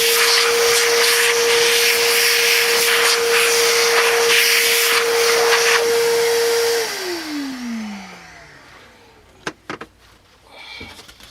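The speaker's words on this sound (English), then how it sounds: "Vacuum this off a little bit more before I pull it off." A wet vac motor roars steadily at close range, then powers down with a falling whine, followed by a few sharp clunks.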